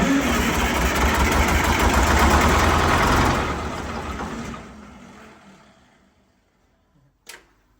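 A Detroit diesel engine being fed fuel by hand with vice grips, running loud and rough for a few seconds, then spooling down and fading to near silence, with a single sharp knock at the end.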